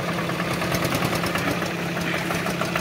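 A single-cylinder tractor engine, compared among John Deere, Captain and New Holland tractors in a tug-of-war, runs loud and close with a constant rough, knocking throb and vibration, no voices.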